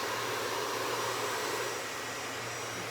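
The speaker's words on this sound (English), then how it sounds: "We turn off our dryer." A hair dryer blows steadily during a blow-dry of hair, a loud, even airy roar with a low motor hum that fills the whole stretch without pause.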